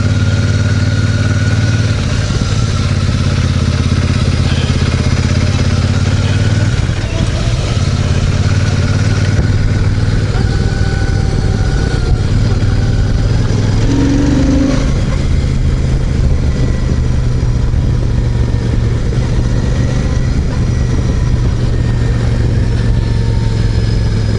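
A Royal Enfield Super Meteor 650 in Celestial Red, ridden on a test ride, with a steady low engine drone and rising and falling revs under loud, constant wind buffeting.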